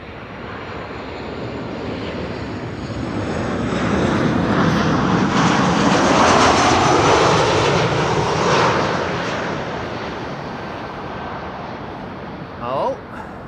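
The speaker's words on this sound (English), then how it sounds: "World Flight Corendon A380 taking to the skies" A Corendon Airbus A380 lifts off at Amsterdam Schiphol, its jet roar swelling loud and broad to a peak midway, then slowly fading as it climbs away, with a voice speaking over it.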